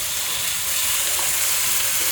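Fish frying in a pan with chopped tomato and onion just added, a steady broadband sizzle holding loud and even throughout, no voices over it.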